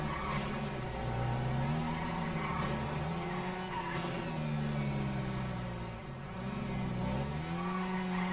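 In GTA 5 a car's engine drones loud and close as it accelerates, its pitch wavering up and down through the gears with a brief dip before climbing again.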